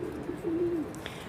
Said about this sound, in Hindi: ऐसे हैं गाइस मेरे कबूतर।